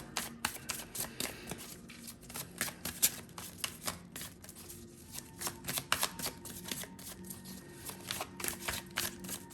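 Steampunk tarot cards are shuffled continuously and close up, with rapid riffling flutters and soft slaps repeating throughout at a quiet level, no voices.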